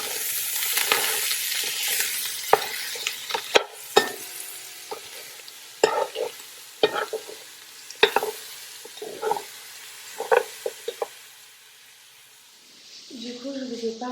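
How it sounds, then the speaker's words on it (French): Sausages and onions frying together in a pan, a bright hissing sizzle with intermittent clacks and scrapes of a utensil stirring, fading toward the end, where a voice briefly speaks. "je vais mettre tout ça avec les saucisses qui sont en train de frire"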